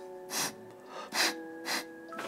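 A person six months after septoplasty with double turbinate reduction sniffs sharply through the nose four times, each a short close breathy intake separated by brief pauses.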